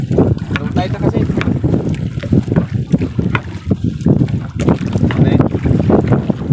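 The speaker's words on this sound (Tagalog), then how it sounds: "Lakas ng hangin." Strong wind buffets the open sea around a small fishing boat, a loud, continuous rumbling roar with gusty surges, while people talk over it.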